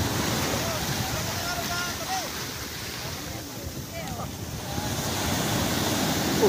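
Surf washes steadily onto a beach at Bucana where crowds gather for a fish run, a constant broadband roar with wind buffeting the microphone and excited voices shouting nearby over it.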